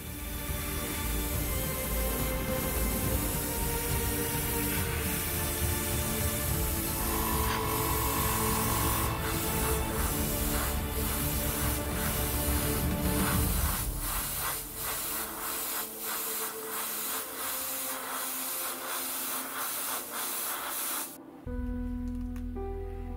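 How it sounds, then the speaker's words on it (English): Airbrush spraying an all-over coat of matte varnish on a Tamiya 1/48 Messerschmitt Me-262 model aircraft, a continuous close airy hiss broken by short clicks and pulses, ending in a sharp cutoff. "the appearance of the paint and the decals is unified using an all-over coat of matte varnish"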